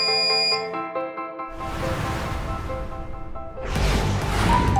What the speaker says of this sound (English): When set time is over, as you can see, the alarm sounds and the heating process is stopped.